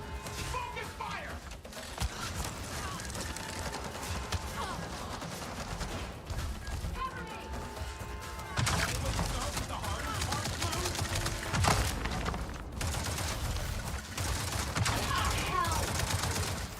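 Automatic weapon fire crackles in bursts of rapid shots through a firefight in Avatar Frontiers of Pandora, over dense game ambience, with someone talking now and then between the volleys.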